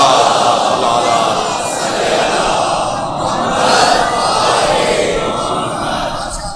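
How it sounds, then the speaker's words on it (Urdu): A large crowd at a Shia majlis recites salawat in unison, a loud, continuous collective chant that swells and holds steady throughout. "صلوات پڑھیں ذرا محمد و آل محمد"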